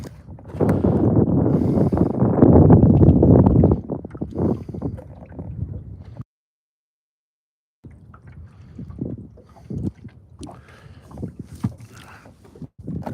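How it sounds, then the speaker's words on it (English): Heavy wind buffeting a microphone in a loud rumbling gust, then a short dropout, followed by lighter gusty wind noise. "You guys hear the south wind on there?"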